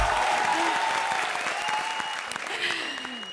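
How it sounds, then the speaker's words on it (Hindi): Studio audience applause on a comedy TV show: a dense, loud burst of clapping that slowly fades, with musical tones and a voice sounding over it. "बजाओ ताली इसी बात पे।"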